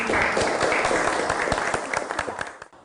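A school audience applauds, dense clapping that stays strong before thinning out and fading at the end.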